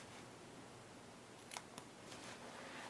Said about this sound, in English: Take some really sharp scissors and just cut at an angle.